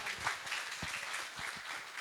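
A gathering at a prison sermon event gives a short, faint round of clapping, a brief patter of hands heard from a distance.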